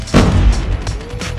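Shotgun blasts in Call of Duty Mobile, a heavy booming shot followed by a couple of further sharper reports, loud and close in a busy firefight.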